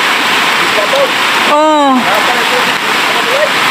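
Rushing floodwater pours through the Maria Cristina spillway as a loud, steady broadband roar throughout, with a brief spoken exclamation midway.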